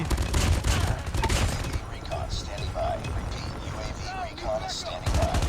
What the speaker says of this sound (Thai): เพื่อนไปยิงกันแล้วเพื่อน